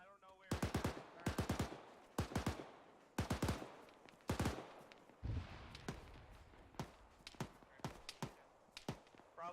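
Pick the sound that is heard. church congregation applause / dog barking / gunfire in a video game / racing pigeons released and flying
gunfire in a video game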